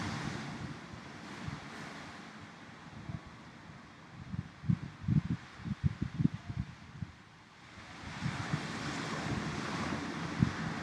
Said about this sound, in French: Vous pouvez commencer dès maintenant à entendre le bruit des vagues, le flux et le reflux.